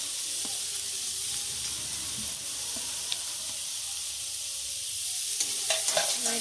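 Grated cauliflower being stirred in a frying pan for paratha filling, a soft continuous sizzle with light scraping turns and a few clinks of the spatula toward the end, no voices.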